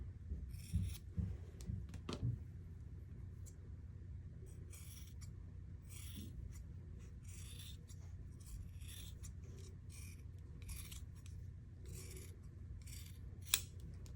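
Scissors snip repeatedly through fabric, trimming a quarter-inch seam allowance on a sewing project, with irregular crisp cuts and soft handling rustles, close and quiet with no talk.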